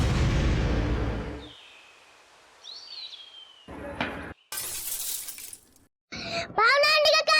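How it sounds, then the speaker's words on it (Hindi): A pane of glass shatters in a home, a sudden bright crash of breaking shards that bursts in after a quiet stretch, followed by a second burst of noise and a voice calling out. "भावना आंटी का कांच फट गया"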